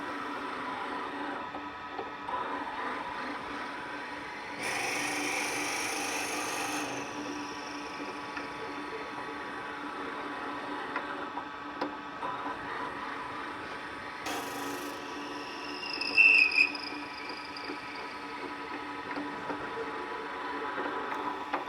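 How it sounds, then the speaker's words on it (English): A drill bores a 5/16-inch hole about an inch deep into a birch wood workpiece. The bursts of whirring and grinding are faint and close, with a steady hum running between them. "Now it's time to drill a 5/16 of an inch diameter hole about 1 inch deep into the workpiece."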